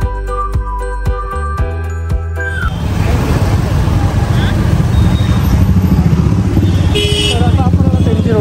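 Scooter setting off into city traffic: music at the start gives way to a steady, loud broadband engine and road rumble that carries on to the end.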